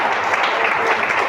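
A church congregation applauds during a Spanish-language sermon, a dense, continuous burst of many hands clapping filling the room for a brief moment.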